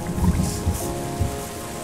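Rain falls in Terra Nil as a soft, steady patter with gentle drops, heard faintly under an ambient musical hum for a brief moment.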